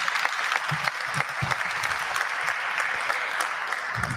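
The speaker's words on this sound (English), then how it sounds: "So for those 3 things, a round of applause." A graduation ceremony crowd gives a full round of applause, dense and continuous clapping from many hands that fills the room at a steady level, with a few low thumps mixed in.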